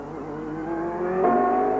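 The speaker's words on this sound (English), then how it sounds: "Runs a Ford Cosworth XB engine just like Michael." A 1994 CART race car powered by a Ford Cosworth XB engine, heard at Surfers Paradise qualifying, holds a steady, loud engine drone that climbs in pitch as it accelerates, continuous throughout with no talk.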